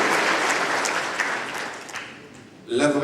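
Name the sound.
audience applause at town mayor's New Year address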